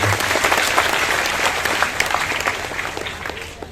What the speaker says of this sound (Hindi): इनके लिए जोरदार तालियां होनी चाहिए सबसे पहले।